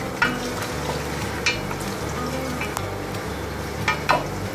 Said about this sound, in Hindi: सबसे पहले हम इसमें प्याज डालेंगे ऑयल में। प्याज को फ्राई करेंगे